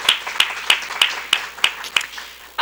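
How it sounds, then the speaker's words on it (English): Applause at a school board of education meeting, a small group clapping in sparse, separate claps about three per second, fairly close, ending with a louder burst. "So I think we need to give him a round of applause."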